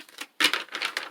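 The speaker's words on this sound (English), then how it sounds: "Let's go ahead and just give you guys a few shuffles." Rider-Waite tarot card deck being shuffled by hand, brief soft crinkly riffles and papery flutters close by, a short pause then a denser burst of shuffling.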